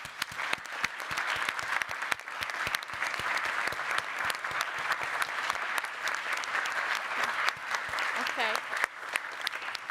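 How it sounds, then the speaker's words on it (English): An audience at a Swiss Italian Society event in Zurich applauding: dense, sustained clapping from many hands throughout, moderately loud and slightly distant, with faint murmuring voices mixed in. "So please join me in giving a big round of applause to all of them."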